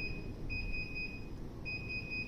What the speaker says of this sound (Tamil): 3 பீப் கேட்டுட்ருக்கோம், எதில் 2 பீப் கேட்குதோ அதில் ஸ்டாப் பண்ணிவிடுங்க.